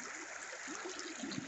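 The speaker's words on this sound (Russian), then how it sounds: "Водища прет просто-напросто. Большая-большая." Fast-flowing water of a Siberian taiga river rushes in a steady, dense broadband roar, continuous and fairly close, with no voices.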